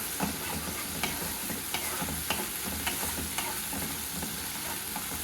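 Spice paste for a yogurt prawn curry sizzles steadily in hot oil in a pan, with a continuous close hiss and occasional light stirring clicks, no speech.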